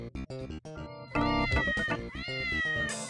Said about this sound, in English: Look at the little cat.